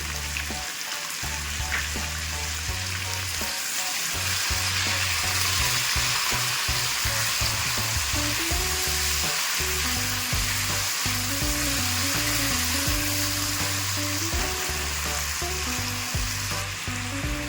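Diced potatoes fry in a pan with salt, crackling in a loud, steady sizzle with occasional stirring scrapes throughout.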